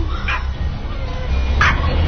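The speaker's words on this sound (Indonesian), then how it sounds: "Dia tetap tidak berhenti menggonggong ke arahku." A dog barks persistently in a radio horror drama, with sharp, repeated close barks and yips at the start and end over a dense background bed, and faint voice-like sound mixed in.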